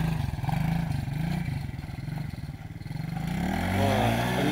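A repaired quad bike (ATV) engine revs and pulls away, its mid-pitched mechanical drone rising and falling with throttle, loud and close throughout with a rattly clatter.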